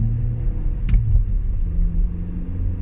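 A car engine hums steadily while driving, a low rumble running throughout with a brief rise in the middle.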